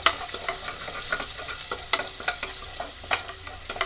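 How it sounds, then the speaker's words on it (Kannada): Finely chopped onion frying in oil in a pot, a constant close sizzle broken by regular scraping stirs of a spoon against the metal. "ಒಂದು ಅರ್ಧ ಈರುಳ್ಳಿನ ಚಿಕ್ಕದಾಗಿ ಕಟ್ ಮಾಡಿ ಇಟ್ಕೊಂಡಿದ್ದಲ್ಲ, ಅದನ್ನು ಸೇರಿಸ್ತಾ ಇದ್ದೀನಿ. ಇದು ಸ್ವಲ್ಪ ಫ್ರೈ ಆಗಬೇಕು."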